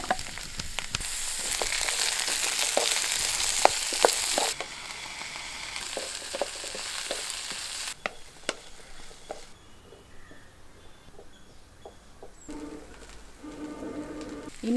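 Okra with onion and green chili sautéing in a pan of oil for a tomato okra curry, a soft continuous sizzle with occasional scrapes and taps of stirring, fairly quiet and without speech.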